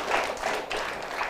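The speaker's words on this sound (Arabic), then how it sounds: "اعطونا تصفيق على ماما وبابا" An audience applauds a mother and father at a children's event in Algeria, a brief, dense burst of many hands clapping at close range, with no words spoken.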